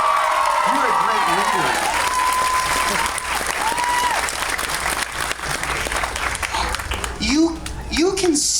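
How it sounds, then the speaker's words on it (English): Audience applause at a 2019 reading event, steady and loud throughout, with a voice talking over the clapping. "Give her an applause."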